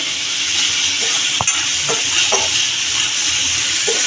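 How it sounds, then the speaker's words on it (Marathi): Onions sauté in a pan for red amaranth bhaji, a close, loud, continuous hiss of frying with a few soft scraping stirs mixed in. "आपण आता थोडा कांदा बावेपर्यंत परतून घेऊया"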